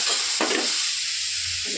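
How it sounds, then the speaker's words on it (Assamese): Chopped jaggery hits a hot wok with a soft steady sizzle and hiss, near and continuous, with a brief scrape partway through. "এয়া গৰম হৈ থকা কেৰাহীটোতে মই মিঠাইখিনি ঢালি দিলোঁ"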